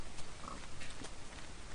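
A Minecraft pig oinks in a short game grunt, heard over a dense layer of steady background noise.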